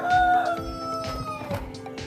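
A rooster crows close by in one drawn-out call, followed by short clucks and rustling, with no talking.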